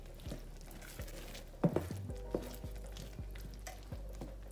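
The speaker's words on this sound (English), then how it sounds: "Stir this up." Honey being stirred into a pot of pork and beans with little peppers, soft rhythmic scraping and clinks of a spoon against the pot under a faint background sizzle, quiet and close.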